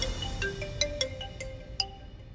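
A phone ringtone plays at moderate volume, a short run of bright, evenly spaced electronic tones repeating in a quick melodic pattern for a couple of seconds.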